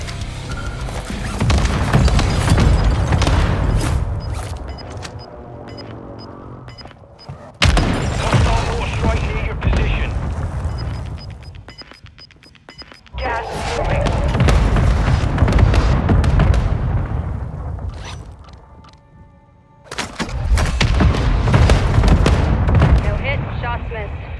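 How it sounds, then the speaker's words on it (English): Mortar strike explosions in Call of Duty Warzone 2 hit in heavy, rumbling bursts that swell and fade across several waves, loud and close, with a brief quieter gap between barrages. "Mortar strike inbound now."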